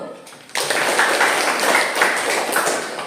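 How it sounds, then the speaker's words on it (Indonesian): A classroom audience claps for the first student presentation group during a field teaching practice session, a dense burst of applause starting abruptly after a quiet moment and continuing steadily at moderate loudness. "kita kasih aplaus kelompok 1"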